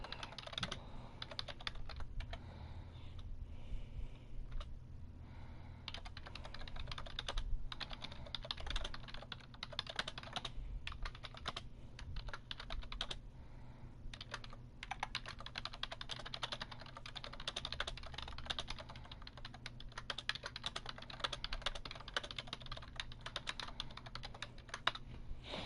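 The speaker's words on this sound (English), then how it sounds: "1 second while I type up the rules." Continuous, quiet typing on a computer keyboard, with dense, irregular key clicks that run for a long stretch over a low background hum, with no talk.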